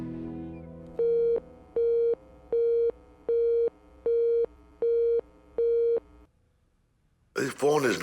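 A telephone busy signal beeps seven times in a steady on-off rhythm, clear and alone, with a brief stretch of talk before it and after a short silence.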